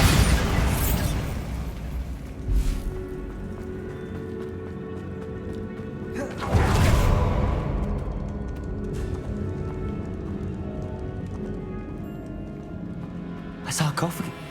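Bombarda explosion spell in the Hogwarts Legacy video game, a few heavy booming blasts spread across the scene with rumbling tails, a loud one midway, set among game sounds and ongoing talk.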